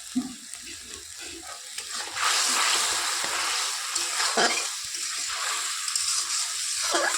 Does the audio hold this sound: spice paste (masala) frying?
yes